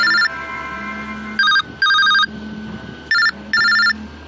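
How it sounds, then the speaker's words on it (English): A telephone rings repeatedly aboard a Main Street omnibus, electronic trilling bursts in an irregular pattern of four short and long rings, loud and close over a low background hum. "The phone keeps ringing."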